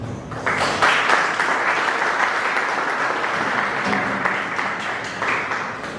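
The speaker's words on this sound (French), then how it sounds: "J'allais justement dire d'applaudir pour cet exposé qui est très riche de Moïse Makangala." A conference audience applauds steadily for several seconds after a talk, a dense wash of clapping that swells slightly near the end.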